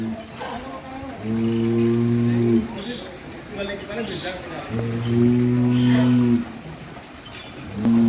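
Cattle unloading from a large truck into a pen, with two long, deep moos close by, separated by a pause, then a third beginning, over faint background noise.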